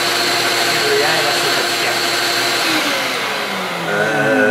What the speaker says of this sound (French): Mon aspirateur d'atelier.